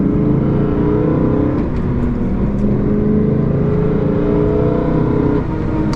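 A BMW engine with no exhaust, plenum or intake roars loudly and continuously at steady high revs, a harsh, raw, buzzing drone with no pauses.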